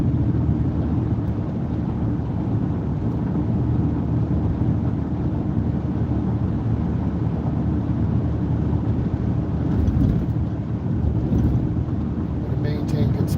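A car cruises steadily at 55 mph along a road through a wooded area, its low broadband road and engine rumble holding constant throughout, with a faint rustle near the end.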